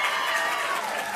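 Applause from an audience at a school board meeting, a steady, even patter of clapping hands throughout a brief stretch, moderately loud and continuous.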